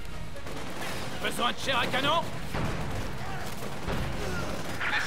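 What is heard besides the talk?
small arms gunfire in video game Company of Heroes 2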